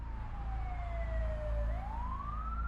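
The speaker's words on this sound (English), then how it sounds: "the EMTs loaded Mark into the back of the ambulance and sped off to the hospital" An ambulance siren wails loud and steady over a low engine rumble, its tone sliding downward then rising again as the vehicle speeds off; no voices.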